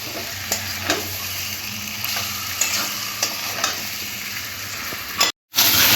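Chicken cooks with spices in a pan over low gas, a steady close sizzle broken by repeated scraping stir strokes, with a brief cut near the end and no talking.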